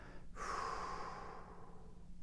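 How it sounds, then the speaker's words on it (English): A single long exhale during a 4-7-8 breathing exercise, a soft airy whoosh that starts abruptly and fades out slowly, close and quiet. "So first, just an exhale."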